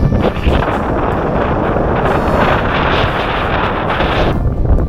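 Strong wind roars loudly and steadily across the microphone, a constant heavy buffeting rush with no pauses.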